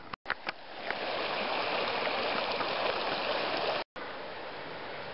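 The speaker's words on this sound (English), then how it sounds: "the Queens River, Sawtooth National Forest, Sawtooth Wilderness" The Queens River in the Sawtooth Wilderness of Idaho's Sawtooth National Forest rushes steadily past at close range, a dense, constant wash of flowing water with a couple of brief dropouts and no voices.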